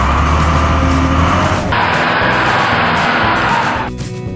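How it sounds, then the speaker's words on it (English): A rugged six-wheeled rock truck, a heavy construction hauler built for rough ground, driving with a loud, steady engine roar that shifts in pitch partway through and then eases off near the end, with no voices. "Rock truck."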